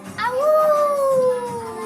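A human voice imitates a family of jackals howling at the sky, giving one long rising then slowly falling howl, loud and close, with no other sounds.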